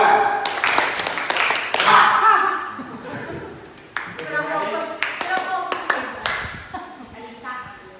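Rhythmic group clapping at an Indonesian school training session: a room of participants claps a set pattern of quick bursts and pauses, sharp and fairly close, with a little chuckling and talk mixed in.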